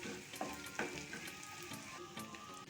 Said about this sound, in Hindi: दालचीनी के टुकड़े, 1 छोटी चम्मच जीरा और 1 चम्मच ग्रेट किया हुआ लहसुन, इनको हम हल्का सा भून लेंगे।